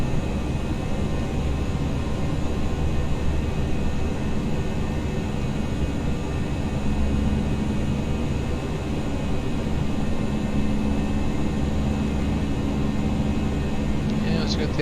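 Airbus airliner jet engines at takeoff thrust in the ToLiss flight simulator, a loud, steady broadband roar with low humming tones running unbroken throughout, with no words spoken over it.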